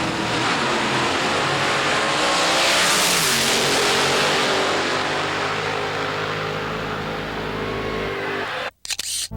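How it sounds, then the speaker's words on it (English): Nitro drag racing cars tearing down the strip in a race, a loud sustained engine roar with a rising, rushing tone that holds for several seconds before cutting off abruptly near the end. "Wow, the nitro cars are wild."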